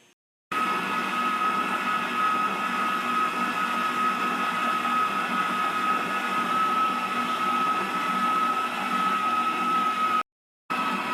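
An electric mixer beats sifted flour into toffee cake batter, a steady high whirring motor drone that starts abruptly, runs evenly for about ten seconds, cuts out briefly and then resumes.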